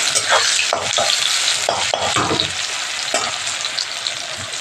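Onions and tomato frying in a pan with salt, a steady loud sizzle broken by repeated scraping strokes of a spoon stirring the mixture, close up with no voices.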